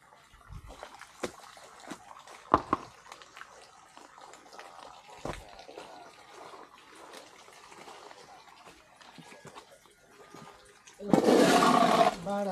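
Water from a burst spring gushes loudly in a steady roar near the end, after a long stretch of faint outdoor background with a few scattered knocks.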